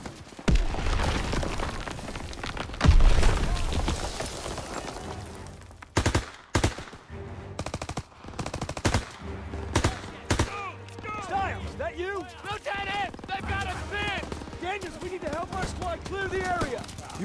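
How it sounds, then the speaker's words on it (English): Bursts of gunfire and booming blasts from the World War II shooter game Call of Duty: WWII, loud at first then sharp intermittent shots, with game dialogue and voices talking over the battle. "Gunfire! We must be near our guys."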